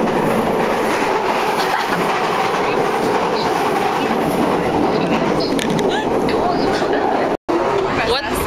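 Loud, steady rumble of a London Underground train in motion, with rattling wheels and clattering carriages throughout, a brief drop near the end and voices murmuring faintly.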